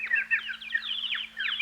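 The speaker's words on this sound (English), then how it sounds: "Look at those birds. Aren't they cute?" Chickens or similar fowl cluck and chatter in a quick, continuous run of short calls outdoors on a nice day by a swimming pool, moderately close, with a steady low hum underneath and no talking.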